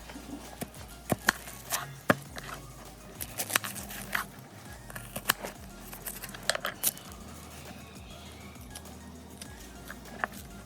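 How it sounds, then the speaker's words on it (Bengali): A knife chops onions on a board with irregular, crisp taps, some in quick bursts and others spaced out, fairly faint against a quiet kitchen background. "সবার আগে পেঁয়াজ কাটতে হবে"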